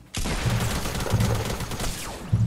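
Gunfire in the video game Fortnite: a dense, loud burst of rapid shots starts abruptly and continues without pause, with heavier low thumps recurring at intervals and a final strong crack at the end.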